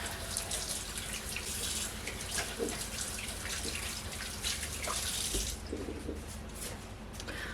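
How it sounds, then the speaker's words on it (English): Hands washed under a running kitchen tap: a steady splashing stream with rubbing and dripping, close and continuous, easing slightly near the end. "Let's wash our hands up"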